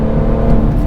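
A BMW M140i with its 340-horsepower engine and automatic gearbox, a loud, close, throaty engine note holding steady for a brief moment.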